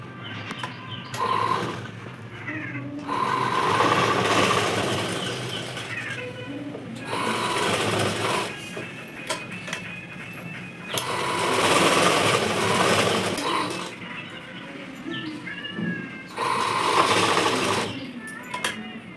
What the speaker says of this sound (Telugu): సెట్ చేసుకొని ఫస్ట్ పైన కుట్టు వేసుకోవాలి.